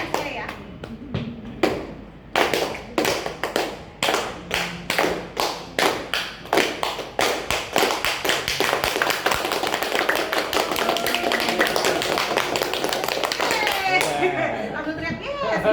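An audience claps in unison, with slow, evenly spaced group claps that speed up and merge into loud, sustained applause before fading. Cheering voices and chatter mix in.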